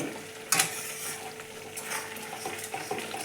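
Spicy chicken curry cooking on a low flame: a soft, steady sizzle with a sharp clink near the start and scattered scraping stirs, fairly quiet and close throughout.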